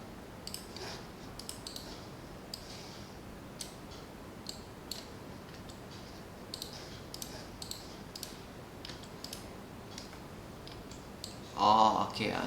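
Computer mouse clicks while working on a 3D model in Rhino, a steady run of sharp, quiet, close single clicks at uneven intervals over a low room hiss, ending in a brief louder rustle.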